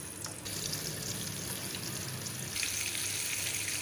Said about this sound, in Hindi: अब इसके अंदर जो है मैं अपनी केरियों को फ्राई करूँगी।